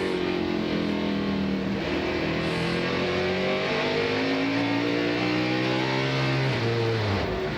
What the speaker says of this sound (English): sounds like something desperate happened inside that engine.